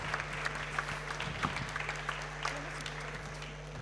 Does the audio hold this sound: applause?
yes